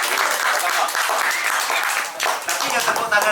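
Applause from the audience at a Madurese cultural gathering, a dense steady patter of clapping lasting a few seconds with voices mixed in underneath.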